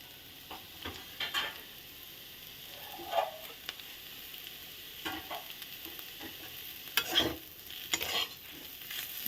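A spoon stirs a vegetable filling with chopped coriander in a pan, giving faint, intermittent scraping and soft sizzling, with occasional louder clinks near the end.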